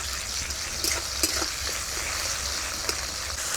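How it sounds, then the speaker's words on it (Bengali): Chopped tomato and onion fry in a pan with a steady, close sizzle, broken by a few small clicks and stirring knocks. "টমেটো কুচিটাকেও একটু ভেজে নেব।"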